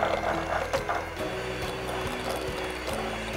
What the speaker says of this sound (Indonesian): sekarang kita halusin dulu, kita kocok sampai lembut dulu.